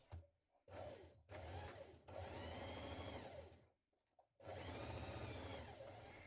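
A sewing machine stitches the shoulder seams of a waistcoat lining, back piece to front piece. It runs in three close, steady whirring bursts split by short pauses, with no talk over it.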